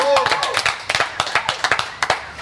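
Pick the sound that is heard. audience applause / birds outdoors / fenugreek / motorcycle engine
audience applause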